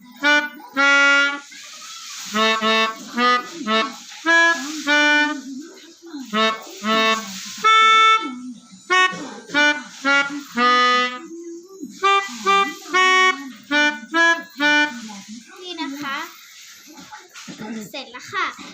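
A melodica plays Happy Birthday in short, reedy notes, phrase by phrase with brief pauses between lines, loud and close.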